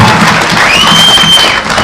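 A crowd claps loudly and continuously to welcome Nakuru governor Susan Kihika at a political gathering, dense applause heard close throughout.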